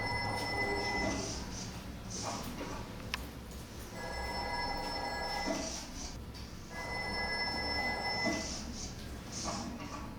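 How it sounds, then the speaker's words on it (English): Old telephone ringing as a background sound effect in a WWII underground bunker, two long bursts of bell ringing separated by a short pause, fairly faint and reverberant. "Telephone ringing."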